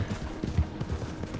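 Horse hooves in Red Dead Redemption 2 clop in a quick, steady rhythm of soft thuds at moderate loudness, with no talk.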